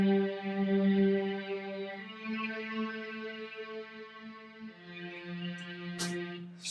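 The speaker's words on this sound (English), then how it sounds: "Cellos and violins are kind of like in the same family." Cellos and violins play together in a sustained, rich harmonic blend, bowed notes holding and shifting through several chord changes at a steady level, with a brief bright accent near the end and no talking.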